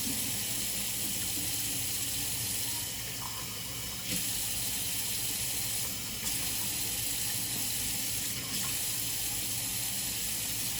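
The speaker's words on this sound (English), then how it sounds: "I am mixing a half a cup of warm water in my tortillas" Half a cup of warm water poured into tortilla dough, a steady close splashing and running-water sound that continues for about eleven seconds, alone without talk.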